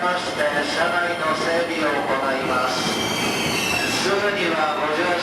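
Passenger train running through Japan toward Mount Fuji, a steady continuous rumble of wheels on rails with faint squeals, close and constant throughout, with some voices mixed into the ambience.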